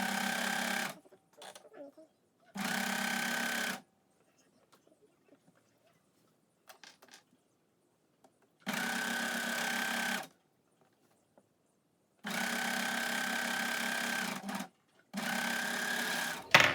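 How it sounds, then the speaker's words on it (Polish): A sewing machine stitches seams on a coat, running in several loud bursts of about one to two seconds with quiet gaps between, where faint handling sounds and brief talk can be heard. "albo obrzucicie na overlocku, albo na stebnówce"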